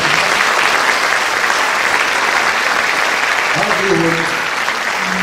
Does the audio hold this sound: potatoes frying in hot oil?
no